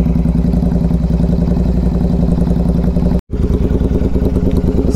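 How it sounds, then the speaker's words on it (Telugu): A motorcycle fitted with a new performance air filter idles steadily just after startup, a loud close mechanical chug with light clatter and no revving, broken by one very brief dropout. "Startup after the air filter. So ఒక 2 minutes అయితే ఐడియల్లోనే ఉంచేద్దాము."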